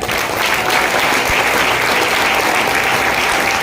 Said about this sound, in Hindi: एलिमेंट के लिए जोरदार ताली हो जाए।